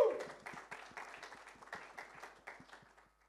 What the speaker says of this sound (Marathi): जोरदार टाळ्यांनी स्वागत करा संजय नार्वेकर सर यांचं.